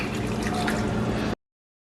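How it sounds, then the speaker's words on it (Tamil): Water poured into a cooking pot while making cashew nut curry, a short, full gushing splash lasting just over a second before cutting off abruptly. "இதில் வந்து தண்ணி இருக்குது 1/2 கப் எல்லாட்டிக்கு 375 மில்லி லிட்டர் தண்ணி சேர்க்க போகிறேன்."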